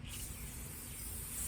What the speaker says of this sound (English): spray of the clear coat.